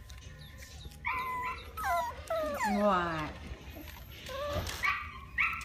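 Puppies whimper, whine and yip in high, wavering cries that rise and fall continuously, while someone talks to them affectionately over the top.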